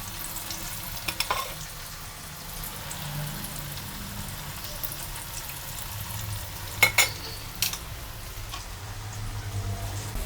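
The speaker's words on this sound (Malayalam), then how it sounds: "നമ്മുടെ ദണ്ട് ഇങ്ങനെ ഫ്രൈ ആയിക്കൊണ്ടേ ഇരിക്കുന്നതാണ്" Oil bubbles and sizzles softly and steadily as jackfruit seed vada deep fries, with a few clinks of a utensil against the pan.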